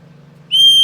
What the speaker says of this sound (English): But that is a powerful whistle.